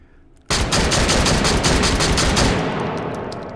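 A 10+1 capacity tube-fed shotgun with a long barrel fires in the VR shooter H3VR, a loud blast whose dense ringing tail fades over about three seconds.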